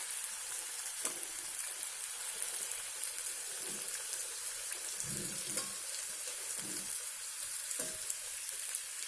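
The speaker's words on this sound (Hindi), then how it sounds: "लो फ्लेम में रखकर इसे फ्राई करते रहिए।" Gujiya sweet samosas deep-fry in oil over a low flame, giving a steady, even sizzle and crackle throughout with a few faint stirring knocks, heard close up with no talking.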